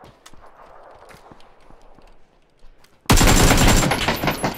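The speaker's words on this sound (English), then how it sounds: "It was shooting at me now." Video game gunfire: quiet rustling and faint taps, then an abrupt loud burst of rapid automatic shots that continues densely to the end.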